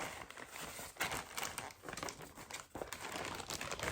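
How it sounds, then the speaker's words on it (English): Continuous crinkling of a plastic Ziploc bag holding a cross-stitch piece on white 14-count Aida, close and fairly loud, with sharper crackling bursts throughout and no talking. "Sorry for the crinkle. It's in my expensive bag called the Ziploc bag."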